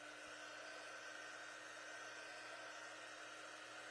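A hair dryer blows steadily and continuously at close range over a craft door hanger, a constant broadband whoosh with a faint motor hum, running alone without any talk.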